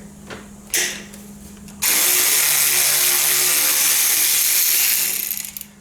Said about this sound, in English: I'm going to need a wrench on the other side.